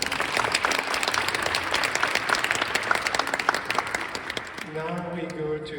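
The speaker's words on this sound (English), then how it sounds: "round of applause" A conference audience at a JavaScript meetup claps after a talk, with dense, steady applause that tapers toward the end as a voice begins speaking over the last second or so.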